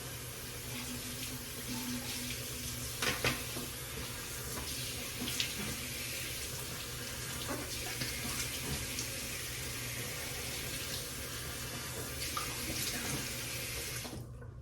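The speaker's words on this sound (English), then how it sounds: "Rinse off the razor a little bit." Tap water runs steadily into a sink while a razor is rinsed, a continuous faint splashing stream with a few small knocks, stopping just at the end.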